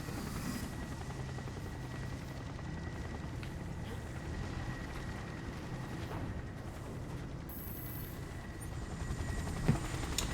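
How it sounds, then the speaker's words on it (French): A GCPD police helicopter in the video game Gotham Knights, its rotor drone steady and fairly close amid a stormy game soundscape, with a few sharp bangs near the end. "L'hélico du GCPD a ouvert la voie."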